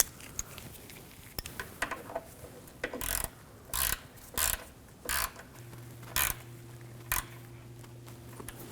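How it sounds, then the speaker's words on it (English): A hand ratchet clicks in short bursts while tightening a radiator hose bolt on a 2007–2013 BMW 328i 3.0L inline-six, with several distinct spaced strokes over quiet workshop background and a faint steady hum near the end. "take the bolt, get that started, and we'll tighten that down"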